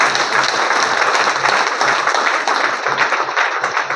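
Loud, sustained applause from an audience at a network marketing seminar, a dense wash of many hands clapping continuously and evenly throughout, close and filling the room with no speech over it.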